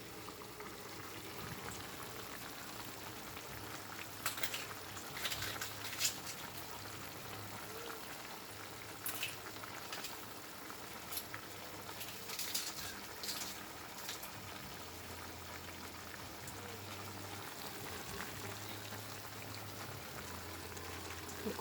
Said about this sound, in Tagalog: Kumukulo siya.